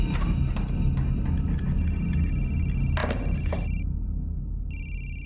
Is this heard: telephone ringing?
yes